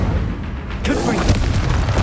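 A Confringo fire spell goes off in the Hogwarts Legacy game, a sudden heavy boom about a second in with a rumbling tail, set among other combat spell effects.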